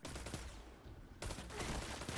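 Rapid automatic rifle fire in a first-person shooter game, a sustained burst of close, loud shots that briefly thins out and then resumes even denser, with no talking.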